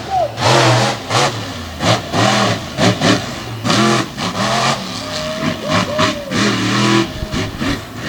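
Engines of 575 cubic inch Outlaw trucks rev and roar around the dirt oval at HorsePower Park in Morganton, loud, close and surging in repeated bursts with a voice talking over them.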